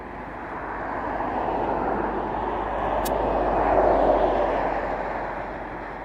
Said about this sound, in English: We've got an ATP which will be landing soon